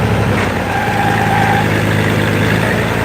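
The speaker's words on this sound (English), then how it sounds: "Man, I love the sound of this tractor." A tractor engine idles steadily and loudly up close during a soybean harvest, a constant low rumble with no other sounds.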